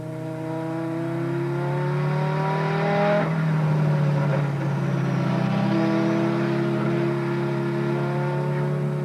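Modified Class A race cars on a warm-up lap at Killarney circuit, several engines droning loud and close with steady harmonic whine, pitch rising and falling as cars rev and pass, with a louder surge midway.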